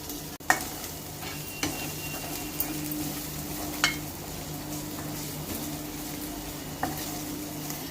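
Country chicken (natukodi) goes into a pan of fried tomato and ginger paste over a low flame for a village-style pulusu, sizzling steadily while a spoon stirs and scrapes, giving a few sharp clinks against the metal.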